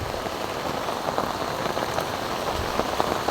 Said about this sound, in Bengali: প্রচুর বৃষ্টি পড়তেছে, বৃষ্টির মধ্যে আমি এগুলো তুলে নিচ্ছি